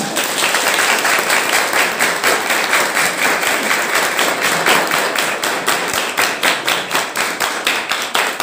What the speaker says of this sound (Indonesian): Kasih aplaus yang meriah buat beliau.